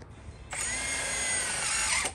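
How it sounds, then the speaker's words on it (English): A rotary hammer drives into concrete to set bolts, starting abruptly and running as a loud, steady high whine for under two seconds before cutting off. "We use the rotary hammer. And we put these bolts into the concrete,"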